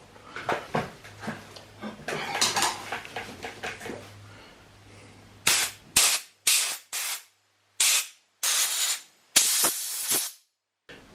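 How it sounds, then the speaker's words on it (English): Compressed air blasted through a leaf blower carburetor line, first a long hissing stretch, then about six sharp, loud separate bursts with silent gaps between them. "We're going to shoot a little bit of air through this line here."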